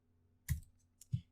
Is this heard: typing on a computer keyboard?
yes